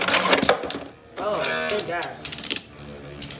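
A Beyblade X Silver Wolf is ripped from its launcher with a fast ratcheting zip, then spins in a plastic stadium with a whirring rattle and sharp clicks. People talk over it.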